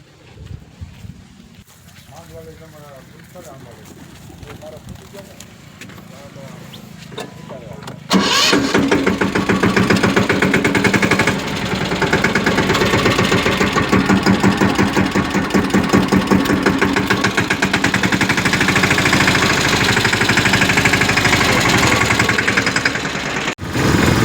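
A small farm tractor that had stalled in the field is push-started: quiet rustling and voices come first, then the engine catches abruptly and keeps chugging loudly and steadily up close until the end.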